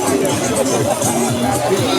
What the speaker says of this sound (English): They said this is a light crowd.